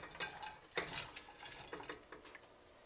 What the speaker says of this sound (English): So I've drained the meat, took the grease out, put it in the strainer. I'm going to place it back in.